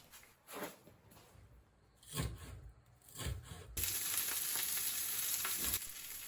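Leftover morning rice mixed with natto and egg fries in a home kitchen in rural Japan, with intermittent stirring scrapes and clinks at first, then a loud steady sizzle that takes over from the midpoint and carries on to the end.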